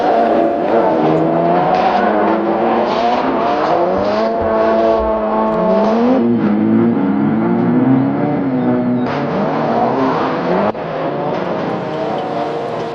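A rear-wheel-drive Mitsubishi Evolution III drift car revs and drives hard, its engine note rising and falling loud and close, with a brief change of pitch near the end.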